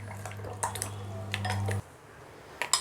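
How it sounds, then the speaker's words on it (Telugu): Eggs being beaten in a bowl for egg guntha ponganalu batter, with scattered clinks and taps of a utensil against the dish over a steady low hum that cuts off partway through. "ఈ విధంగా ఎగ్ని బాగా బీట్ చేసుకొని ఇలా కలుపుకోవాలి మొత్తం"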